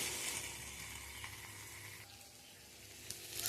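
A spice mixture sautéing in a pan, a faint steady hiss of sizzling with small soft crackles, quiet and without voices.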